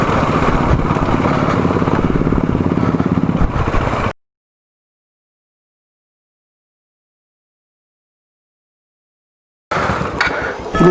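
KTM Duke 390 or Royal Enfield motorcycle ridden on the road from Delhi to Leh in Ladakh, with a steady loud engine drone and wind roar that cuts to silence for several seconds and then resumes.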